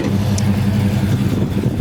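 A 1968 Chevy Impala with a 383 stroker engine and open-chamber mufflers rumbles loudly and steadily, deep and throaty, with no talk over it.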